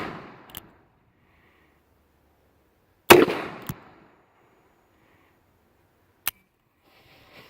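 Sharp gunshot cracks from an old used Uberti Cattleman revolver, one loud near blast around the middle followed by a quick echo, with fainter isolated pops before and after amid quiet.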